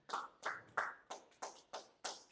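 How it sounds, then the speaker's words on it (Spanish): A church congregation claps in applause, seven or so distinct claps in a slow, even rhythm, each sharp and short, faint and somewhat distant in a quiet room. "Dale un aplauso a la palabra de Dios."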